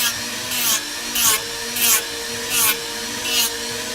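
A Dremel rotary tool grinds into a foam prop greatsword in six rhythmic bursts, each high whine rising briefly over a steady motor hum, close and fairly loud with no talking.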